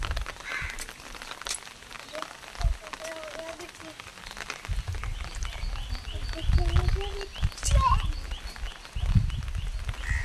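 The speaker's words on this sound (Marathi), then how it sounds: "दिवस रात्र पाऊस आहे" Steady rain patters in the background over a muddy, waterlogged farmyard while animal bleats and other farmyard sounds come and go, with nearby voices speaking at times.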